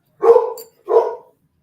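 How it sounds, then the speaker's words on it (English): A dog barks twice indoors, two loud, close, separate barks with a short pause between them and silence around them. "What happens if you start barking when you're not supposed to?"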